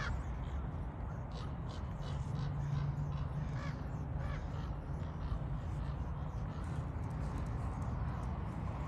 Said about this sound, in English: That cemetery would be complete without the customary crows.